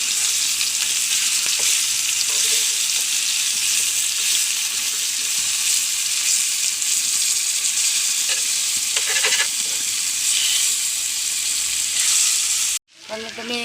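Fish fries in hot oil in a pan, giving a continuous loud sizzle with occasional stirring scrapes and spatters, close by, before a sudden drop to near silence at the end.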